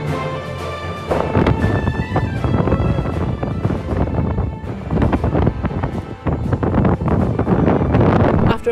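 Strong wind buffets loudly and continuously, with gusty roaring and rumbling throughout, on the coast of Ireland.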